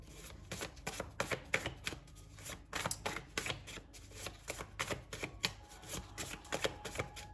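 Tarot card deck shuffled by hand in quick repeated bursts of riffling and slapping cards, close and fairly soft, with no talking.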